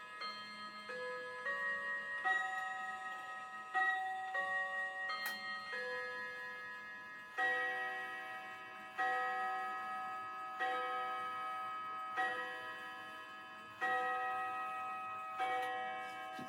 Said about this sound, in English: We gotta take a break for Mr. Clock. He's telling us it's 6 o'clock in the morning.